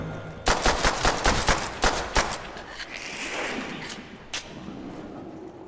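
Shotgun blasts in Call of Duty: World at War zombie survival on the Dawnville map: about six heavy, evenly spaced booming shots up close, then a rumbling tail and one more isolated blast.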